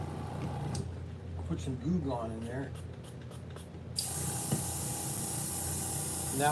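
Goo Gone cleaner sprays out of a small part in a shed, a steady broadband hiss that starts abruptly and runs on continuously after a stretch of quieter background with a voice talking.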